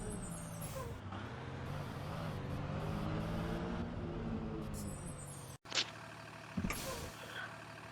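Air brakes on a transit bus in a bus-driving video game, a sustained engine drone with a sharp hiss of released air near the end and no squeal.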